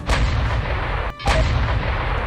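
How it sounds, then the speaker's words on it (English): Artillery cannons in RimWorld fire explosive shells, two heavy booming blasts about a second apart, loud and close, each followed by a rumbling tail. "try to hit that nuclear warhead with some explosive shells from our artillery cannons"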